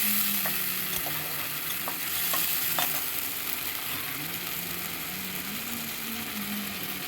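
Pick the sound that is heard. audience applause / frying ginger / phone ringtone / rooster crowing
frying ginger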